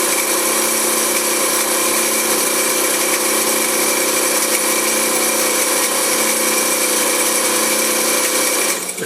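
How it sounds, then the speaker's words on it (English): An industrial Singer 95-1 sewing machine driven by a clutch motor runs fast and steadily, giving a loud continuous whirring drone with constant pitch that cuts off abruptly at the end. "This is slow, that's slow sewing for a clutch motor, and here's fast."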